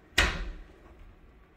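A hotel room drawer slides and bumps shut with a single sharp knock, followed by a short fading rumble in an otherwise quiet room.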